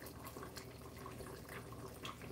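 Water is sprinkled into a pot of Jamaican brown stewed chicken on the stove, making a soft, low splashing and liquid patter that lasts throughout the clip.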